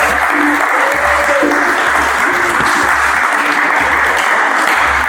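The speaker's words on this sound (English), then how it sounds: "give another round of applause, please." Sustained audience applause fills a tribute concert, a steady wash of clapping with a low rhythmic hum underneath and faint talk in the background.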